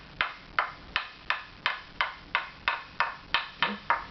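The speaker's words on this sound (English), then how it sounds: "and you start with the frequency that's too low," A wood tap tone reference tool is tapped upward in steady succession, roughly a dozen crisp, evenly spaced knocks close by, each ringing briefly, with no voices.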